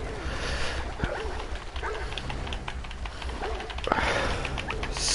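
Dogs barking in the Beyond Two Souls video game, a few scattered yips and barks at moderate distance over continuous rushing river ambience.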